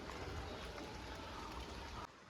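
Steady rain pours outside, a dense, even wash of noise that drops off slightly near the end, with no voices.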